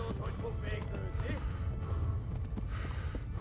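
Horse hooves clip-clop at a steady trot in the medieval game Kingdom Come: Deliverance, a continuous rhythmic patter running beneath a voice urging the horse on.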